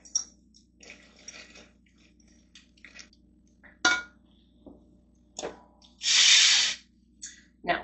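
Pistachios, sesame seeds, baking soda and salt are stirred into a hot sweet mixture in a pan, giving scattered scrapes and knocks, one sharp clack and a brief sizzling hiss, close and without talking.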